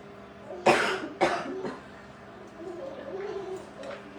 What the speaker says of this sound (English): Everyone's got the allergy cough.